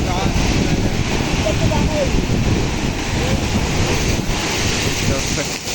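Heavy sea surf at Bhardkhol Koliwada beach surges up against the village houses, a loud, unbroken roar of crashing water mixed with strong wind buffeting the microphone.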